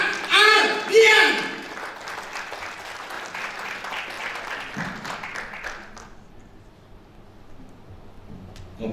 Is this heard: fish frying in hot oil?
no